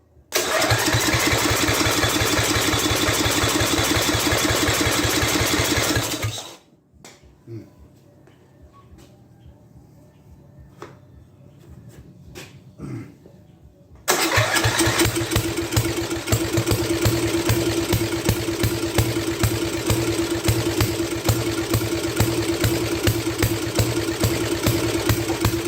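An MTD lawn tractor's small engine runs loud and rough with a pulsing, uneven roar, cuts out to near silence for several seconds with faint knocks, then roars back up and keeps running unsteadily.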